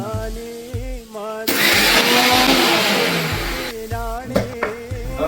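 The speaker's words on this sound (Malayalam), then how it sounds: "കുറച്ചെടുത്ത് മിക്സിയിൽ അടിക്കണം." A kitchen mixer grinder blends curry leaves for a Kerala beef curry in one loud whirring burst of a couple of seconds, with a person talking just before and after it.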